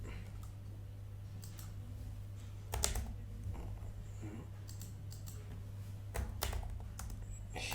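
Keyboard typing on a computer while text is entered, a steady run of quiet clicks over a low constant hum, with a few slightly louder bursts of keystrokes.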